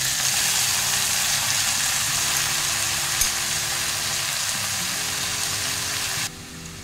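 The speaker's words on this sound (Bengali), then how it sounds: "আমার চিংড়ি আর পেঁয়াজ ভাজা হয়ে গেছে। এখন আমি এটার মধ্যে কুচানো তরমুজের খোলা ঢেলে দেব।" Chopped watermelon rind, shrimp and onion frying in a pan give a loud, steady sizzle and hiss that runs for several seconds, then drops in level near the end.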